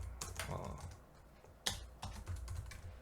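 Typing on a computer keyboard while writing C++ code, producing continuous irregular clatter of keystrokes with one sharper key hit near the middle, close and moderately quiet with no talk.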